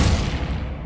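A Glacius ice spell cast in Hogwarts Legacy, a single short, full-bodied burst with a heavy low thump that fades quickly, loud and close with no other sound around it.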